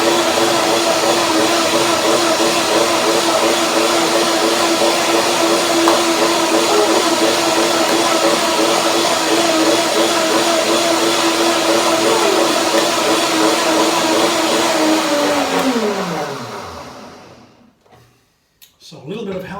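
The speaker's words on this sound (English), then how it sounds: "So I blend it one more time." A blender whirs steadily at full power, grinding soaked macadamia nuts into a smooth cream, loud and close, with a slight pitch shift as the contents churn before the motor winds down and stops near the end.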